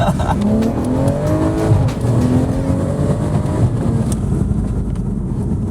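A BMW 335i engine revs in a steady, loud, full-bodied roar that rises and falls slightly, heard from inside or close by, with voices talking over it.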